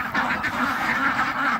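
Ducks quack repeatedly and close by in the snow, a busy overlapping chorus of nasal calls.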